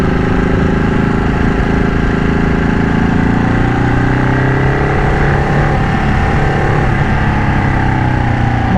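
A modified Ducati Panigale 1199 Tricolore motorcycle engine running steadily, a loud, close, continuous droning rumble with shifting tonal layers, no talking.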